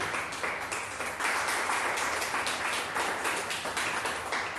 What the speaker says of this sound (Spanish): Y un fuerte aplauso si quiere.